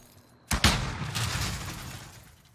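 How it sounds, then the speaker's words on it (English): A single loud close-range gunshot from a weapon in Warzone, a sharp blast followed by a second crack and a long decaying rumble that fades out over a couple of seconds. "that's what it does when you shoot somebody this close"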